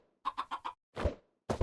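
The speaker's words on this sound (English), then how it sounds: "I'm going to spawn some more chickens." Chickens clucking in the FTB Sky Odyssey modpack video game: a quick run of four short clucks, a pause, then two more clucking bursts, close and fairly quiet with no talk.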